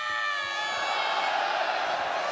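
Crowd at a Tofu Pro Wrestling women's show in the Aichi prefectural gymnasium, a steady wash of cheering and shouting voices building slightly as a wrestler climbs the top rope, heard alone without commentary.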